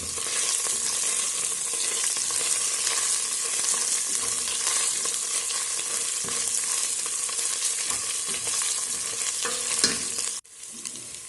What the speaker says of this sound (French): Je vais faire revenir ma tomate 2-3 minutes maxi.